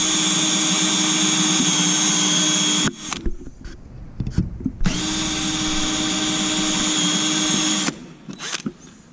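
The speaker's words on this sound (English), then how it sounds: "I used the countersinker and I tested this piece" A handheld countersinker bores into aircraft sheet metal with a loud, steady high-pitched whine, cutting off abruptly, then a few clanks and handling sounds before a second sustained whine starts and stops again.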